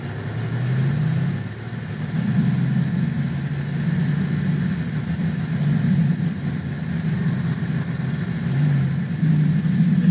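A Mercedes-AMG GT pulling away from a standstill on a driving course, a steady low engine rumble heard from inside, rising slightly and holding without distinct revving peaks.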